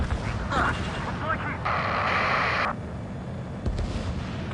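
Missile explosion in the jet combat game Ace Combat 7, a heavy booming burst over ongoing game audio, with a brighter blast in the middle of the clip.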